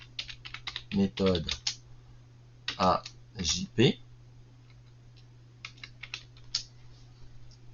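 Typing on a computer keyboard in a word processor, a run of quick clicky keystrokes heard close by, with clusters of taps between stretches of speech.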